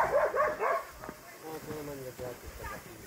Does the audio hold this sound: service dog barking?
yes